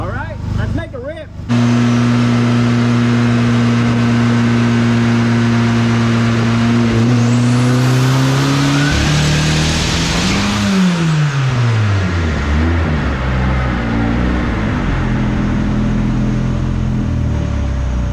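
An adult go-kart engine of about 89 horsepower sits at a loud, droning idle, then revs up, sags and climbs again, harsh and close, after a brief clatter at the start.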